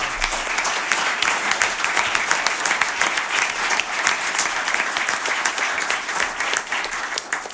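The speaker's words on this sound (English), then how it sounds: "let's give him a round of applause" A studio audience at a live radio session breaks into sustained applause, dense steady clapping at an even level throughout, with no voices over it.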